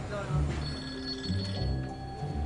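A telephone rings in a busy airport baggage operations office, a few repeated electronic rings carrying over background chatter and room noise, with voices talking nearby.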